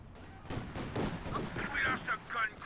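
An infantry support gun fires in the World War II strategy game Company of Heroes 2, with a few sharp battle thumps and bursts of gunfire while a commentator speaks over the action.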